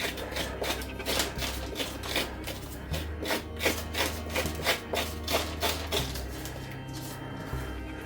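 A scoop scrapes and rasps rhythmically against the inside of a hollowed Halloween pumpkin, with repeated close scraping strokes and a low steady hum beneath.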